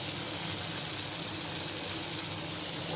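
Fish dopiaza sizzling steadily in a pan as four green chilies go in, a constant loud frying hiss with no distinct pops and no talk.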